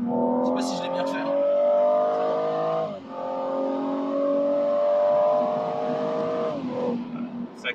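A BMW M135i accelerates hard, its engine note rising steadily through a gear, dipping briefly at a shift near three seconds, then climbing again; loud and close, heard from inside the car.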